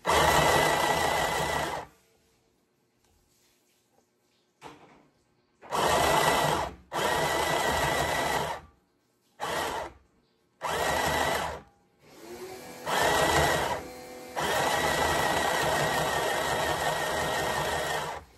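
A small home sewing machine stitching fabric in repeated bursts, loud and close, starting and stopping with short pauses between runs of whirring, then a longer continuous run at the end.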